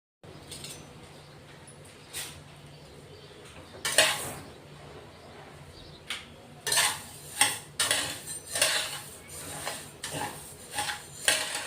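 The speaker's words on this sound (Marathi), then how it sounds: "तर आपण हे धने आता भाजून घेणार आहेत, मस्त खमंग भाजून घेणार आहेत" Coriander seeds dry-roasting in a pan, stirred with a metal spoon that scrapes and clinks in quick uneven bursts, growing busier in the second half over a faint dry rustle.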